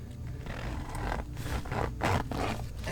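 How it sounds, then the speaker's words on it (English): Zipper pulled closed along the fabric of an Urban Worm Bag composter, a steady close scraping zip lasting a few seconds with slight surges near the end, no voices. "So now what we're going to do is we're just going to zip this back up."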